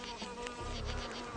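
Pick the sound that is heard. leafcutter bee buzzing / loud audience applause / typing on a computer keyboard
leafcutter bee buzzing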